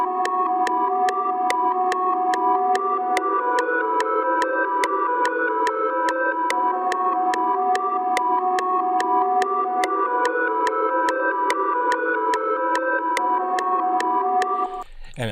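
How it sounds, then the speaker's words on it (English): A steady looping lo-fi melody built from a bell sample, with a soft repeating tick, warm and slightly muffled, playing continuously without pause before cutting off at the end. "now we basically have a loop that kind of sounds like this from that original little bell sample"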